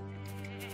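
A sheep in a video game lets out a single short, close bleat that fills the whole moment.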